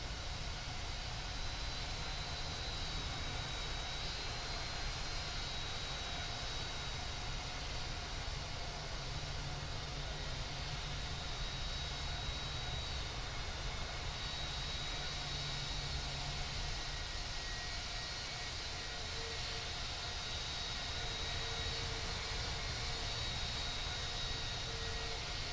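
An AeroMexico heavy jet takes off from runway 18 left at Dallas Fort Worth International Airport, a loud and continuous broadband engine roar with a steady whine that holds for the whole stretch and has no speech over it.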